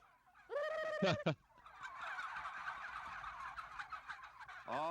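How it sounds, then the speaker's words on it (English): Turkeys on the open range around Cuero, Texas, let out a loud, rattling gobble. A dense chorus of softer flock calls follows, and another gobble begins at the very end. "If you talk turkey, turkeys talk back."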